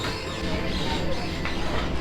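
Steady interior rumble of a Vande Bharat Express train running from Katra to Delhi, a continuous broadband roar filling the cabin throughout, with faint talk underneath.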